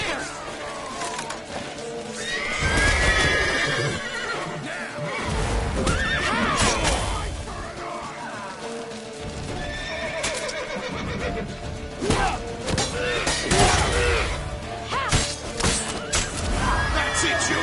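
Horse neighing and whinnying loudly in The Witcher 3: Wild Hunt gameplay, several calls across the clip over busy game sounds, with shouted voices and possible hoofbeats.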